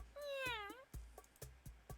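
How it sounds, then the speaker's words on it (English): A black cat in the Dandelion game gives a single drawn-out, rising-then-falling meow, followed by a series of light, evenly spaced clicks. "I looked up and spotted the black cat inside the salad bowl along with the food"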